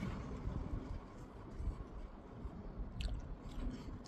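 Someone chews a big salt and pepper chicken burger with a crunchy coating, producing steady close-up crunching and biting sounds throughout, with no talk.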